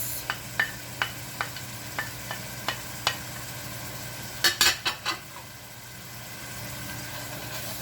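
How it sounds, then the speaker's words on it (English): Onion and chopped peppers for stuffed peppers sizzling in a pan, a soft steady frying hiss under a series of light spoon taps and stirring scrapes, with a low background hum. "So we're going to add in the onion, chopped peppers,"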